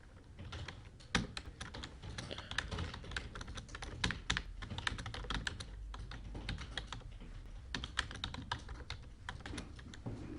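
Fingers type an email on a computer keyboard in a close, continuous run of quick clicking keystrokes with brief pauses, heard alone without any talk.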